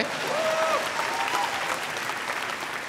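An audience claps together at a French comedy stage show, a dense wash of applause that holds steady and then thins slightly toward the end.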